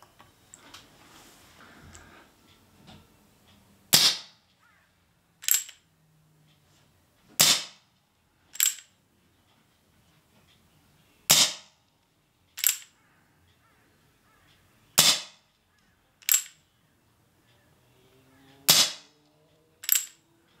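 A Crosman Remington 1875 air pistol fires pellets outdoors, each shot a sharp, loud crack, about ten single shots spaced a second or two apart, with near silence between them.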